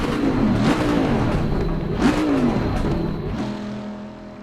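A race car in the racing game Assetto Corsa Competizione drives a fast lap. The engine roars loud and steady, rising and falling in pitch through gear changes, then eases off near the end.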